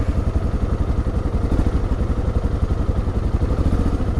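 A 2023 Suzuki DR650 dual-sport motorcycle, brand new and still in break-in, throbs steadily up close as it sets off for the dirt, its loud single-cylinder engine beating in an even, rapid pulse.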